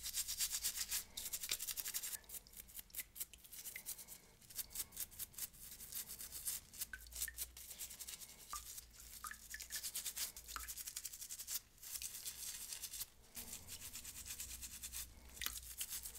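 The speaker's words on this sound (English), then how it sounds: "Switch over to my toothbrush for the smaller parts." Toothbrush bristles scrubbing small Wii U console plastic parts, a steady run of quick rasping strokes with brief pauses, close and continuous throughout, no talking.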